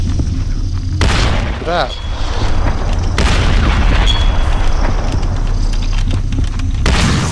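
Gunfire while hunting in Cabela's African Adventure, several loud booming shots amid game noise, with someone talking over them.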